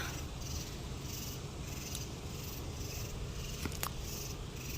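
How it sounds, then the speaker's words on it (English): Steady summer nighttime insect chorus of katydids in a backyard garden, a dense pulsing high buzz repeating in even waves over a low background hum, with no voices. "Hear those katydids tonight?"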